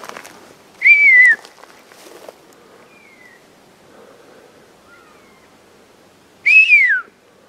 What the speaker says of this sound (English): they're going crazy with whistles